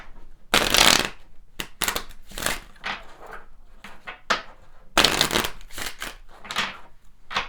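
A deck of tarot cards is shuffled in several brisk riffling bursts, loud and close, with short pauses between the rushes of card noise.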